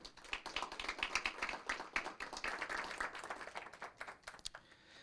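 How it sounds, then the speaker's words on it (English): Applause at a city council meeting for fire captains and firefighters: a moderate round of clapping from a modest crowd, uneven and slightly distant, tapering off toward the end. "Can we give them a round of applause"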